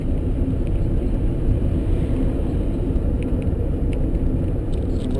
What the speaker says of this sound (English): So we're just rolling right now in third gear.